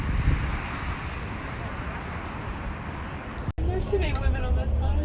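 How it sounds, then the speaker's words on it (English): A helicopter flying overhead makes a steady broadband rotor roar outdoors, with people talking over it and the sound cutting briefly near the end. "And a chopper."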